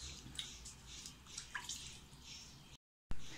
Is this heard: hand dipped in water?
yes